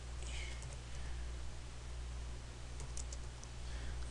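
Keys tapped on a computer keyboard while entering a city name into a weather desktop application, a quiet, irregular patter of light clicks over a steady low hum, with no talking.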